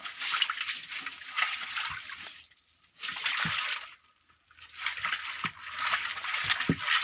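Water sloshes and splashes inside a plastic can being washed, in irregular bursts of rushing liquid separated by short quiet gaps, close and moderately loud.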